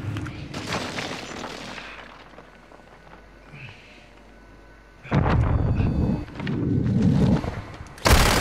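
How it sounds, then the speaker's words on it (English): Explosions from an enemy precision airstrike in a first-person shooter come as heavy booms, one early on and a louder pair of sustained blasts later, with a quieter stretch between and faint background chatter. "Enemy precision airstrike. Find cover."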